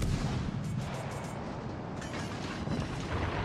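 Warship main-battery gunfire in World of Warships: Legends, deep booming salvos with rumbling low end, one burst early and another near the two-second mark, over continuous naval battle noise.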